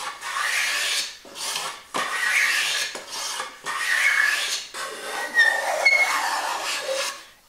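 A hand plane shaves a wooden board in a series of long, rasping strokes separated by brief pauses, each swipe loud and close.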